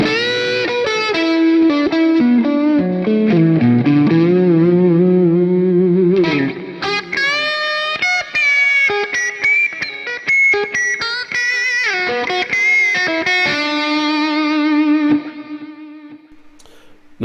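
Distorted electric guitar through the AmpliTube 4 amp simulator with reverb maxed out and echo, chords and sustained notes ringing out, then a held note trailing into a long wash.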